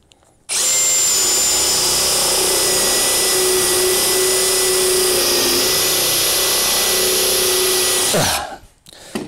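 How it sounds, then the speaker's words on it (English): A conventional spade bit bores through a triple stack of 3/4-inch plywood, a loud, steady whining drill motor with grinding for about eight seconds, then winding down abruptly. "A conventional spade bit will struggle to break through the layers."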